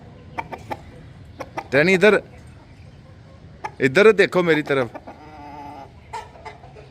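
A rooster held up by two children at a family home in Gujrat clucks in two loud, close bursts, with people talking around it between the calls.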